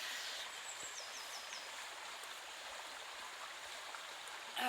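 A river flows as a soft, steady rush of water, faint and continuous at a riverside spot with no voices.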